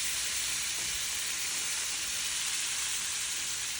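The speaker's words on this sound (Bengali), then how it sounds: "এক পাশ ভাজা হয়ে গেছে, আমি আরেক পাশ ভালো করে ভেজে নেব" Fish pieces shallow-frying in a pan before being added to a radish-leaf dish, giving a continuous, even hiss of hot oil, close and fairly quiet, with no voices.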